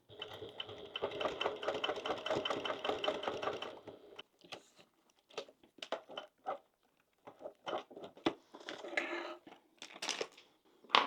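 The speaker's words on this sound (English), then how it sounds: "hold it all in place while you sew across" A sewing machine stitches across a thick zipper pouch with hardware, a steady fast mechanical whir for about four seconds, followed by scattered clicks and handling noises.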